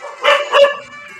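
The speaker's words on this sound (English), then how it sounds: "Even now, my dogs are barking." Dogs bark in two sharp, loud, close bursts, followed by a fainter trailing whine, with no talk over them.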